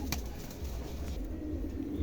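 A pair of Andalusian fantail pigeons, white-tailed, coo softly and continuously at close range, with a low steady murmur and faint background hum throughout.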